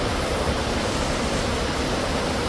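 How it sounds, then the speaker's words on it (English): Waterfalls in a canyon pour in a steady, broadband roar of rushing water, loud and continuous throughout with no voices over it. "this is a canyon with the waterfalls"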